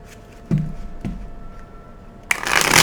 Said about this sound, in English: For some reason, Spirit wanted me to do 7 shuffles.